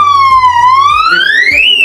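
A loud electronic access-control door alarm siren sweeps steadily down and then up in pitch, continuous and close, with no voices.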